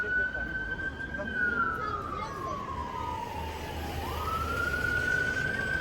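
An ambulance siren passes on a London street near Tower Bridge. Its single wailing tone slides slowly down, snaps back up and carries on over a steady hum of city traffic.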